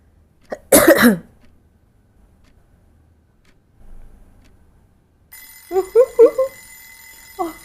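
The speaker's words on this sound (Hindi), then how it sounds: "वजीफा पढ़ने उठ के अलार्म बज गया इसका" A phone alarm rings in repeated electronic tones after a quiet stretch, preceded by a single loud cough and a faint soft noise.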